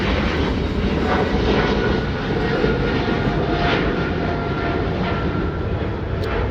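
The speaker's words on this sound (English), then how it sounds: "That's the Boeing 777 freighter of China Airlines cargo now going to Frankfurt" A China Airlines Cargo Boeing 777 freighter at Delhi Airport heading out toward Frankfurt: a loud, continuous jet engine roar, steady and close throughout with no break.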